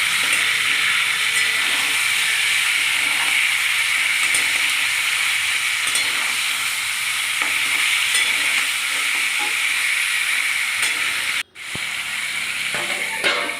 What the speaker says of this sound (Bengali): এবার ভালো করে খুন্তি দিয়ে নাড়াচাড়া করলাম। মাংসটাকে ভালো করে ভাজতে হবে।